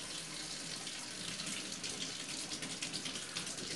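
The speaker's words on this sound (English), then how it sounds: "get some warm water from this faucet, which is probably off camera, but you can hear it" Warm water runs steadily from a kitchen faucet, a continuous close hiss and splash with no pauses or voices over the few seconds.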